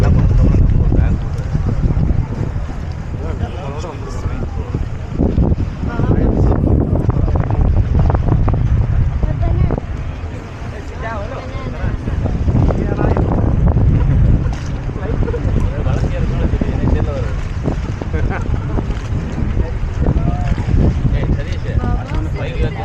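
A loud, constant speedboat engine drone with wind buffeting and rushing water in Thailand; voices speak over the din.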